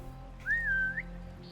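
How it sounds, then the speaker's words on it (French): A single short whistle, a smooth rising-and-falling tone lasting about half a second, clear and close against a quiet hum. "Depuis une cachette, distrayée à l'aide de sifflements."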